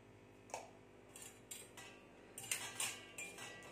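A spoon stirring curd in a bowl for Chettinad-style thayir vadai, giving a few light clinks and scrapes against the bowl, quiet and close, with no talking.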